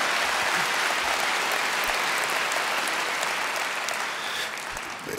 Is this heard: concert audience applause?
yes